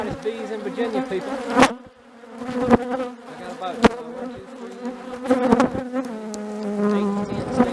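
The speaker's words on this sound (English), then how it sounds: "There you are, some of the hottest bees in Virginia" A dense swarm of aggressive honeybees in Virginia buzzes loudly and continuously, close by, with someone speaking briefly over the drone as bees sting at the camera.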